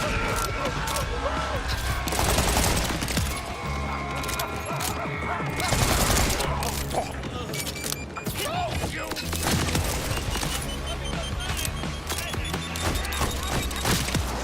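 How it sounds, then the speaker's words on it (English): Bursts of rapid gunfire come from a gun in the shooter game Borderlands 4, dense repeated shots and mechanical clatter that rise and fall over a busy, loud game mix, with a voice talking over them. "you're aiming and it's like you're emptying the magazine every single time"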